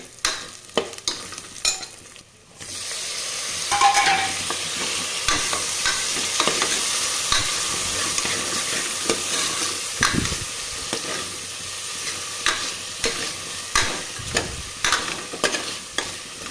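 Tomatoes frying in a pan with potatoes to follow, a steady close sizzle running throughout with repeated scraping stir strokes of a spoon against the pan.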